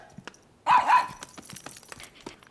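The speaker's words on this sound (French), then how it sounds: "Viens me voir, mon petit chien." A small dog in an animated children's show lets out a quick pair of yappy barks, close and clear, followed by faint scattered clicks and rustles.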